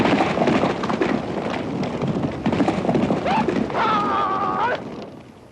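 A herd of horses crossed with small, hardy Mongolian and large Kazakh stock in Shandan, China, their hooves clip-clopping steadily and close, with a whinny near the end.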